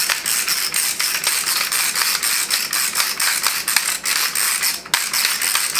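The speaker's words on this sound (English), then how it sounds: "I'm going to put quite a bit of black pepper with my grinder from Sur La Table" A Sur La Table pepper grinder cracks black pepper in quick, close, rhythmic ratcheting crunches that repeat steadily with a few brief pauses.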